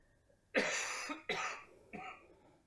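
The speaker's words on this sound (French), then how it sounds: "À la toux." Three separate coughs from a person whose throat feels tight, each a sharp burst that trails off, evenly spaced and fairly close, with quiet between them and no talk.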